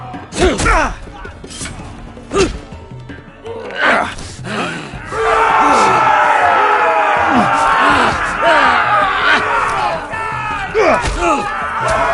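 An arena crowd in a Game of Thrones video game roars and bellows in loud swelling waves, with shouts and heavy thuds near the start.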